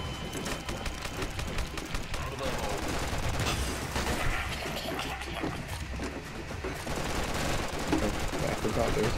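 Continuous machine-gun fire and a grenade blast roar through a Red Alliance first-person shooter firefight, dense rattling bursts layered over explosions, with someone talking beneath the din.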